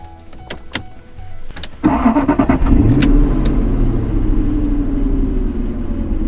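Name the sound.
classic Jaguar car engine starting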